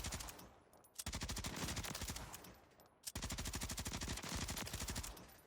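A loud automatic rifle sprays a target in Warzone, firing two long, even bursts of rapid shots separated by a short pause, close and dry with no talking.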